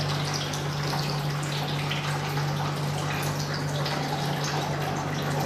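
Water drains out of the vents of a picosecond laser device in a steady trickling, dripping wash over a constant low electrical hum, close and even throughout with no talk.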